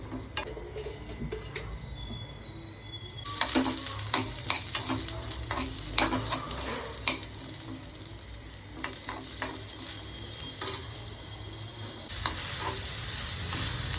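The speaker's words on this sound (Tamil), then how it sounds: "பச்சை மிளகா, வெங்காயம், தேங்காய் வதக்கிக்கணும்" Green chili, onion, coconut, ginger and garlic sauté in a pan with a crackling sizzle and frequent clinking stirs of a metal spoon, growing louder after a quiet opening.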